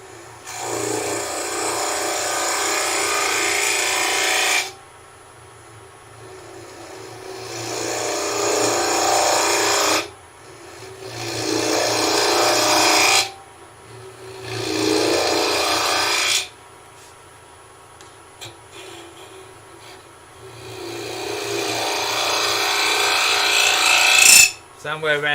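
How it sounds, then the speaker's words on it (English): A drill runs in several long bursts of several seconds each, separated by short pauses, loud and close, boring a hole into a wooden tea light holder. "drill a hole in there."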